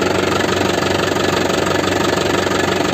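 The turbo diesel engine of a 2012 Isuzu Panther LS idles close by, a loud, steady, even rumble with a light rhythmic knock throughout.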